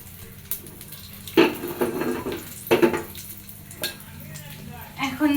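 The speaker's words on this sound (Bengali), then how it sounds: "মাছ ভাজা তেল দিয়ে তেলের মধ্যে জিরে ফোড়ন দিয়ে দিলাম" Cumin seeds hit hot oil left over from frying fish in a home kitchen, giving a brief sizzle mixed with scattered clinks and scrapes of a utensil against the pan, moderately close.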